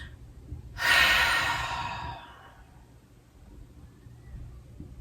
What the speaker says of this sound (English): Take a deeper breath.